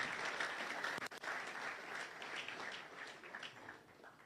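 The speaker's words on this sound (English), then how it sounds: "another round of applause for Prof" A round of applause from a studio or event audience on a diaspora drive-time talk show, fairly faint and continuous with a brief dropout near the start, no talking over it.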